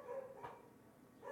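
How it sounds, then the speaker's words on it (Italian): Dogs bark somewhere in the distance, two faint short barks with a quiet gap between them. "abbaiano dei cani"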